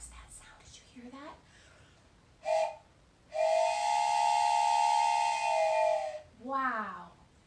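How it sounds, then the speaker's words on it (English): A train whistle sounds, first a short toot and then a long sustained blast, with a voice speaking before and after it. "It was a train whistle going choo-choo."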